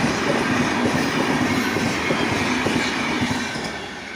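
An express train rushing past close by, a loud continuous roar of wheels and cars with rhythmic clatter that begins to fade toward the end.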